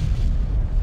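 A deep, booming explosion as a target is destroyed in the video game MechWarrior 5 Clans, loud and low, filling the whole short moment.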